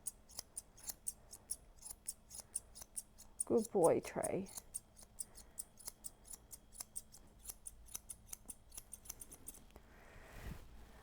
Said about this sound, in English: going through again with our scissors